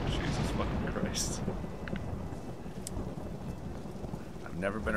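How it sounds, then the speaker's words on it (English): Thunder and heavy rain in the video game Tomb Raider (2013), a continuous loud rumbling downpour with crackling rain texture and brief sharper bursts throughout. "I've never been afraid of thunder, but boy, this game"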